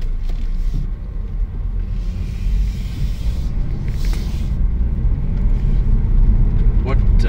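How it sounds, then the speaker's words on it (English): A Subaru BRZ pulls out of a car park, its engine rumbling low and steady from inside the cabin and building slightly toward the end, with a person talking over it. "We're just going to drive out of the car park and go and see if we can take it for a bit of a spin."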